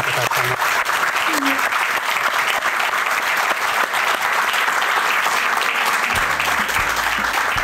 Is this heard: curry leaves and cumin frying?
no